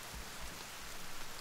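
Steady rain falling in The Forest video game, a continuous soft hiss of drops with low rumbling patter, moderately faint and alone without voices.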